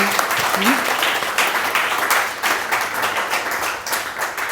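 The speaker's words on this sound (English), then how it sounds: "Give me a round of applause." Full applause from a festival talk audience, a thick steady wash of clapping that holds across the moment, with a voice briefly speaking over the start.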